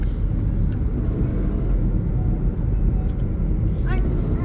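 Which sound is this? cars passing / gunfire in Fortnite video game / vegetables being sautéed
cars passing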